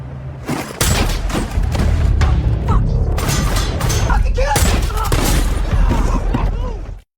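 In a gangster film shootout, several sharp gunshots crack in quick succession amid loud action-scene rumble and impacts, with brief voices mixed in.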